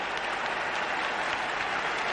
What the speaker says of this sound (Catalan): Tothom aplaudeix, tothom està curull de joia